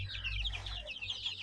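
Desi chickens clucking nearby in a small flock, quick overlapping high clucks and chirps repeating over a low steady hum, fairly faint.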